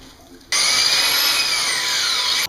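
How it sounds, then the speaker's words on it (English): A power drill bores a hole for a carriage bolt through pallet wood for a top-bar beehive, running as one loud, steady, high whine for about two seconds before stopping abruptly. "drill my holes for my carriage bolts in here"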